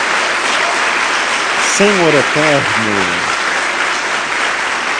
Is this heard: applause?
yes